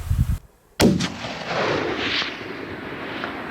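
A single loud hunting rifle shot rings out outdoors after a brief hush, its sharp crack followed by a long rolling echo that fades over several seconds, with no talk.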